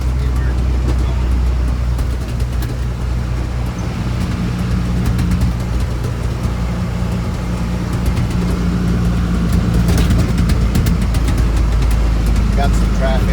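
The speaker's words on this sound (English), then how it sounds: "we're driving down the road here. We got a full tank of water, so truck's pretty heavy right now" A heavy Ford F700 truck carrying a full water tank drives along a road, its engine and road noise a constant loud rumble throughout, with a voice talking over it.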